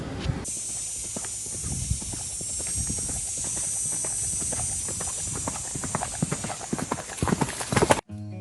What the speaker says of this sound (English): he's just loping out